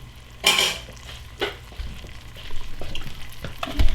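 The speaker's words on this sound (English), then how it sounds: "I will take the spoon and scrape it out" A metal spoon scrapes leftover contents out of an emptied can while making chili, giving a few short scraping strokes and clinks, close and moderately loud, with kitchen clatter around them.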